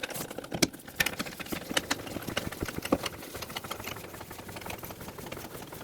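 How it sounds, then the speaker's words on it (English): Mechanical clicking and ratcheting from a jack lifting a 2003-2007 Honda Accord, steady irregular taps and creaks running through the whole stretch at moderate, close-up level with no talk. "For now, let's get the jack underneath."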